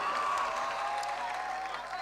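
Brief, dense applause rises from the audience at an All India Mushaira poetry gathering in Parbhani, a continuous wash of clapping with a faint sustained tone running through it.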